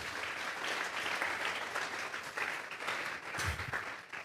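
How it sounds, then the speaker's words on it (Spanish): A church congregation claps as an offering of applause to God during a sermon. The clapping is dense and sustained, heard from a moderate distance, with a few louder bursts near the end. "Vamos a regalarle ofrenda de palmas al Dios de la gloria."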